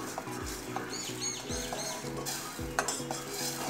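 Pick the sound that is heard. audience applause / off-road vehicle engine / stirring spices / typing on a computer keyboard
stirring spices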